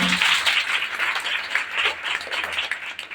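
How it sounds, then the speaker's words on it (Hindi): A church congregation at a Sunday service claps together in a sustained, dense burst of applause lasting a few seconds, with no voices over it. "प्रभु के लिए तालियों को बजाइए"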